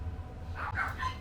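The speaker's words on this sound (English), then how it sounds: "Now you hear the dogs barking." Dogs barking somewhere in the distance: a few faint, muffled barks and yips over a low background rumble, with no talking.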